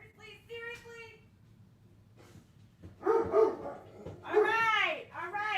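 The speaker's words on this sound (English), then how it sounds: "Who are we barking at?" A pet dog barks in several loud bursts close by at home, with yips and whimpering mixed in, while a person talks over the commotion.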